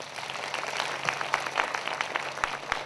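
Applause from an audience at a prayer meeting, a dense, steady wash of clapping from a crowd lasting throughout, moderately loud with no clear pauses.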